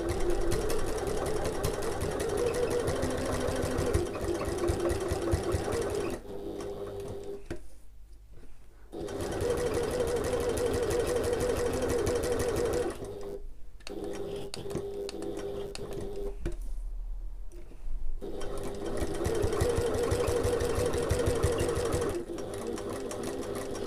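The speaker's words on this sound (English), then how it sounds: "I'm going to sew 1/8 of an inch or 3mm away from the edge" A sewing machine stitches card slots on a sling bag close to the edge, running in long steady whirring runs with two short pauses between stretches of sewing.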